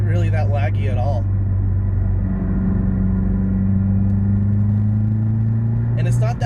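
A turbocharged Mazdaspeed 6 sedan pulls under boost with a steady low engine drone and a slowly rising tone, recorded from inside the cabin, with someone talking over the start and the end.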